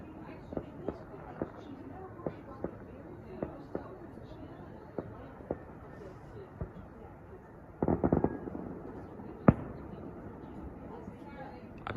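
Fireworks go off at a distance, a scattered run of sharp pops and thumps with a dense crackling burst near the end, heard outdoors over a low background rumble.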